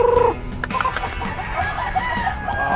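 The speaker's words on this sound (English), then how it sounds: "That's an old brood cock with some young hens." An old claret brood cock and young hens in a breeder's pen cluck and call close by, with a rooster's drawn-out crowing rising over a soft barnyard background.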